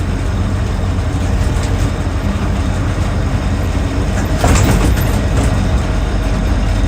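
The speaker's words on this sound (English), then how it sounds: "You do get a bit of tyre noise because it has got sort of quite aggressive military spec style tyres on it, so they are a little bit whiny" A 1968 Land Rover Series IIa 88-inch with a 2.25 petrol engine and aggressive military-spec tyres rolls down the road, its tyres giving a steady whine over a loud, constant drivetrain and road rumble from inside the cab.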